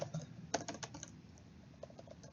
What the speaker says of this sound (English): I'm going to type in GLIMR